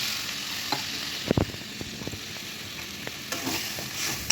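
Egg curry cooks in a pan on the stove. A quiet, steady sizzle runs throughout, broken by a few sharp clinks and scrapes of stirring.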